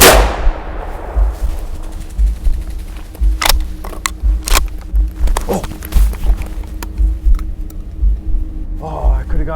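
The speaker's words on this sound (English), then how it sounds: "That was a good wing shot." Shotgun fired while grouse hunting in the North Maine Woods, heard as a few sharp cracks amid steady rustling from walking through brush outdoors, with people talking nearby.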